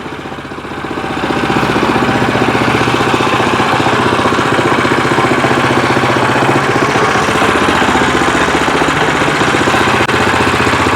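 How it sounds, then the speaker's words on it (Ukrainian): A WEIMA WM1100D-6 diesel walking tractor runs and drives, its engine a steady, loud, close chugging drone that swells in the first second and then holds even throughout. "Дивіться, наскільки зручно танцювати з цим мотоблочком."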